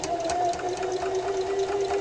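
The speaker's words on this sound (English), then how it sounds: "I am again sewing about a 1/4 inch seam, and I'm using a straight stitch" A sewing machine runs a straight stitch along a quarter-inch seam in backpack fabric: a close, steady motor hum with fast, even needle pulses throughout.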